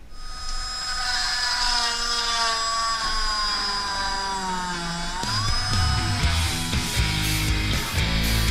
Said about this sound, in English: I'm going to go ahead and drill a channel hole